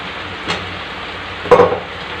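Potatoes dropped into a pan of spiced masala being fried for a Bengali chicken curry, giving a brief loud hiss and clatter at about the midpoint and a softer earlier splash over a steady background sizzle.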